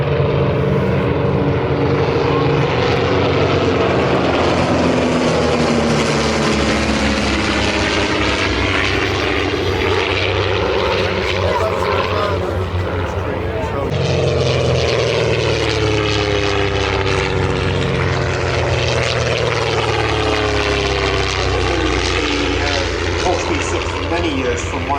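Propeller aircraft flying at the Shuttleworth airshow, with a de Havilland DH.80-era Percival Mew Gull and Comet in the display: a loud, steady engine drone with a swelling, shifting pitch as the planes pass close by, continuous throughout with a commentator talking over it.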